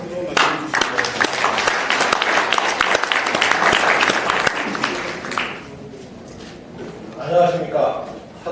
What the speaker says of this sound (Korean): 여러분, 조봉구 회장님을 큰 박수로 맞이해 주시기 바랍니다.